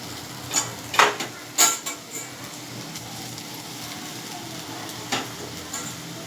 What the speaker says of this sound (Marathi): त्याच पॅनमध्ये मी 1 चमचा साजूक तूप घालते आणि त्यात खवलेला नारळ घालते बघा.